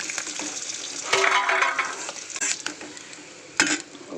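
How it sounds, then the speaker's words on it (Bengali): Potato pieces fry in hot oil in a pan, a bright steady sizzle with scraping stir strokes and a couple of sharper clatters, heard up close and without speech. "ওই তেলের মধ্যেই আলুগুলো দিয়ে ভেজে নেব"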